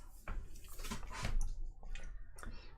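Water poured into a glass of Littlemill 29-year-old Old Malt Cask single malt whisky, a close, soft splashing trickle with small drips that swells and then tapers off, with no talking.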